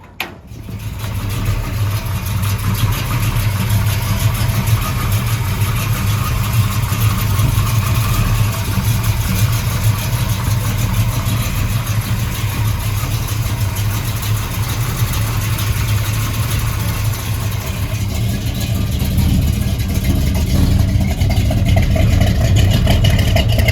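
A 1972 Chevrolet Chevelle SS V8 engine pulls out and drives on the road, a steady, loud low rumble throughout with a swell in revs near the end and no talking.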